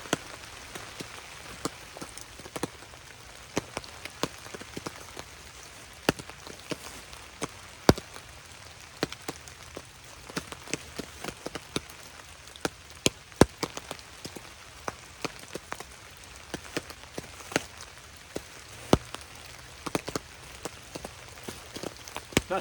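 Rain falls in the mountains, steady and fairly quiet, with scattered sharp drops tapping close by on a nearby surface throughout and no talk.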